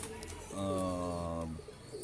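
A breeding pigeon gives a single rolling coo lasting about a second, close and clear against a quiet background.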